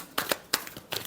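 Tarot cards give a few short, soft shuffling flicks, close by, in three or four brief bursts with quiet between them.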